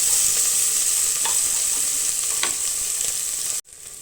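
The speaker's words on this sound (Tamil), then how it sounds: "இப்போ பார்த்தீங்கன்னா வெங்காயம் நல்லா வதங்கிடுச்சு" Onions sauté in a pan for a mutton curry with butter beans and potato, a steady close sizzle with a few stirring scrapes, ending in a brief abrupt drop before the frying resumes.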